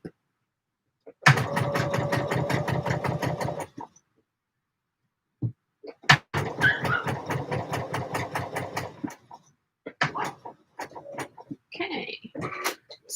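A sewing machine stitches little cap sleeves for a McCall's 7537 garment, running in two steady bursts of rapid needle clatter separated by a pause, followed by small handling noises at the end.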